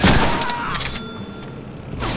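Gunfire from the Deadpool video game crackles in a burst of quick close shots over a dense, noisy backdrop, with several sharp pops in a row.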